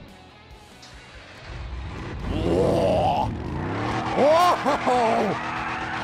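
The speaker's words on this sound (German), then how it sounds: "Wir machen mal Motorsound." A modified Ferrari engine in the video game GTA 5 revs up and whines through rising gear-like tones, loud and close, while people exclaim briefly.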